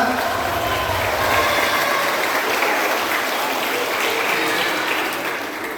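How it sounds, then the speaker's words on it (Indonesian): Easter Sunday Mass congregation at St. Peter's parish church in Karang Sena applauding together, a dense, steady wash of clapping that holds loud throughout and tapers slightly at the end. "maka kita tepuk tangan semua"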